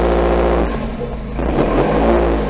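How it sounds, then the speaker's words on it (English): A freshly rebuilt car engine on its first start, struggling to hold idle while the throttle is blipped, gives a loud, close, steady revving drone that dips briefly and then swells again. "It's having a little bit of trouble maintaining an idle, so I have to put my foot on the gas for a bit."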